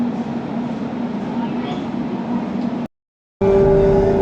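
Steady rumble of an Ahmedabad metro train rolling along, a low hum with a brief dropout, then the noise returns with a rising whine as it gathers speed.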